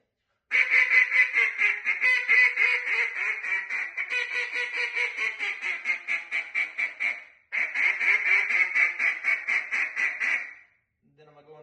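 Hen quacks from a duck call in a meat duck contest routine, a rapid run of loud, close, evenly spaced nasal quacks in two bursts with a brief pause between, then a short low sound at the end.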